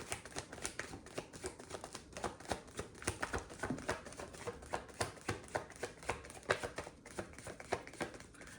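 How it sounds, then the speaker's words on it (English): Tarot cards are handled and flipped over in a rapid series of soft, papery flicks and taps, close and fairly quiet, continuing steadily without speech. "Please flip the cards over."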